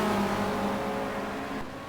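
Touring race cars compete in the 1990 WTCC round at Barcelona, engines droning at high revs as a car holds a steady note and then fades slightly, heard fairly close with no voices.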